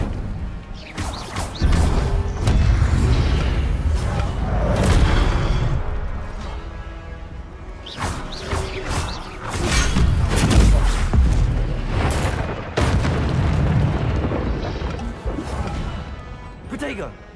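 In Hogwarts Legacy, a player casts Incendio and other spells during combat, producing repeated fiery bursts, crashes and booming impacts up close, layered with game effects and a talking voice.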